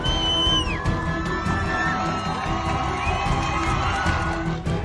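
A large crowd of mourners at Mahsa Amini's funeral in Iran, chanting protest slogans. The massed voices shout loudly and continuously, with raised individual cries rising above them.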